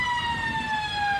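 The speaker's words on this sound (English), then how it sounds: "In fact, the siren has sounded." A sustained siren signals the end of the third quarter at a Sunday Football League grand final, holding a steady whining tone over crowd noise.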